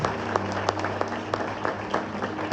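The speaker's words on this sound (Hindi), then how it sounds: "अब तालियां यीशु के लिए बजाएं, जोरदार तालियां यीशु के लिए तालियां बजानी है।" Congregation applause at a revival meeting in a wedding hall, steady clapping with recurring sharp claps over a low droning hum, fairly close and full.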